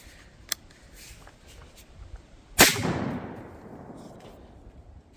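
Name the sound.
shotgun firing a load of buckshot into 2x6 boards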